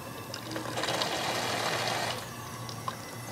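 Steam injector overflow with its water valve set too restricted, giving a steady rushing, hissing spray of water and steam that swells for about two seconds and then settles to a lower continuous hiss, with no voices.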